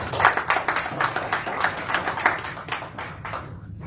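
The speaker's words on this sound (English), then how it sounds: "Can we give Ms. Evans a round of applause?" Scattered hand claps from a small audience at a school board meeting, a brisk uneven patter of individual claps that holds steady and then thins out toward the end.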